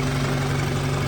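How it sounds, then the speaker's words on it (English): An Audi 2.0T engine with a full AWE exhaust and downpipe idles close by, giving a steady, loud, deep burble with an even low rumble and no voices. "Listen to that exhaust note."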